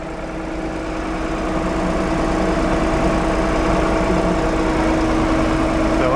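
Steady tractor engine idling close by, a low continuous hum with a faint tonal whine that holds even throughout, with no talk over it.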